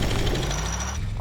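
The terrain drill in the Astroneer video game grinds with a dense, loud rumbling buzz that rattles steadily, then cuts off near the end.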